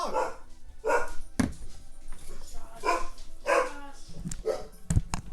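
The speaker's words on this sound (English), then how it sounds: "When did we get a dog?" A dog in the video game Breath of Fire barks repeatedly in a steady series of short woofs with a few sharp clicks between them, fairly close and clear, with no talk over it.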